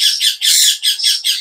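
A myna bird at the Tongi bazaar bird market gives harsh, loud squawks in about five rapid bursts with brief gaps, close up and with no one speaking.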